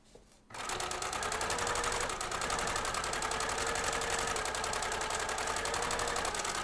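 A sewing machine runs a long, steady straight stitch along a fabric edge for a toddler's homemade costume, starting after a brief quiet moment and holding a loud, even mechanical whir throughout.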